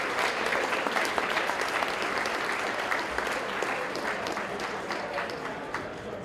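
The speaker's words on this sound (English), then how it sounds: "A round of applause for your top three IEN iRacers" A crowd at a high school esports state finals awards ceremony claps and applauds steadily for several seconds, dense and even, with occasional louder individual claps standing out.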